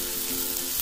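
An egg is stirred with chopsticks in a hot pot at a mookata pork-grill campsite in Chae Son National Park, Lampang, giving a loud, steady sizzle with faint stirring underneath.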